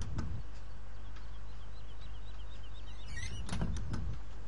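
A car door opens on an Ursus tractor mod in Farming Simulator 17, with a soft clunk at the start and a sharper mechanical rattle and thump a few seconds later over a constant low hum.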